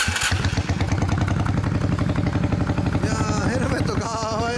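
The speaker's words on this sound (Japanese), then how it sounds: "エンジンかけて。" A Honda Steed 400 VLX custom motorcycle starts and settles into a loud, steady, rumbling idle close by, with people talking in the background.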